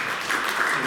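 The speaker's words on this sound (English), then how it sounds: "Can I then just have one more big applause for" Brief burst of audience applause at a cybersecurity conference talk session, a steady wash of clapping lasting about a second.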